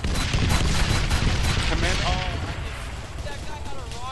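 Video game gunfire, a dense barrage of shots and blasts filling the first half, then thinning as tonal whistling effects rise over it; loud and busy throughout, with players talking over the action.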